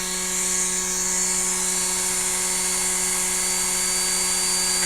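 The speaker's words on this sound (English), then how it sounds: "Start the Dremel up." Dremel rotary tool spinning steadily while hollowing a balsa wood popper, a continuous high-pitched whine with a steady tone and no pauses.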